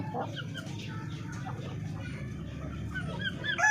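Darag native chickens in a coop being selected as breeders, soft overlapping clucks and low murmuring calls at close range, fairly quiet throughout.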